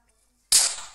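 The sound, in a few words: boat exploding in the video game Minecraft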